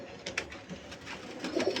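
Pigeons cooing softly in a home loft at dusk, a low continuous murmur of calls with a slightly busier stretch near the end and no voices.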